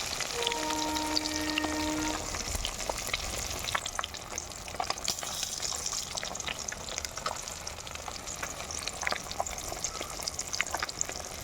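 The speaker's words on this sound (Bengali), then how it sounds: "আমি সবগুলো মাছ ভেজে নিয়েছি লাল লাল করে।" Pieces of rui fish fry in hot oil with a steady, crackling sizzle and scattered pops and spits, a close, continuous frying sound with a few faint tones early on and no talking.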